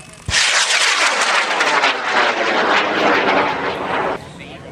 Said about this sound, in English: Coop's rocket's going up in 5, 4, 3, 2